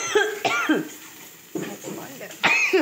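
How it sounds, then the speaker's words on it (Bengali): Repeated coughing fits from a person in a home kitchen, several harsh bursts in short succession, loud and close, with brief throat-clearing between them. "মা এত কাশি"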